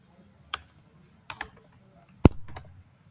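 A few separate keystrokes tap on a computer keyboard while coding, sparse isolated clicks with a louder cluster near the end, close and clear.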